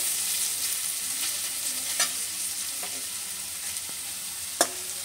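Carrots stirred and fried in a pan for a Bengali leftover-rice dish, giving a steady close sizzle with occasional sharp scrapes of the spoon against the pan.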